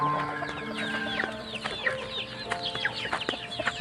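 Several chickens cluck and chatter together in a busy, overlapping chorus, with short squawks scattered throughout at moderate distance.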